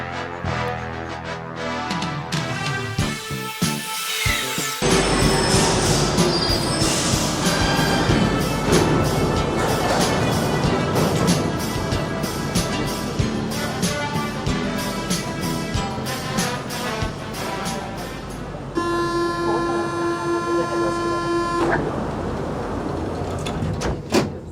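A metro train runs on its rails with a loud, continuous rumbling clatter, rhythmic wheel knocks and screeching tones, interrupted by door sounds and a steady electric whine.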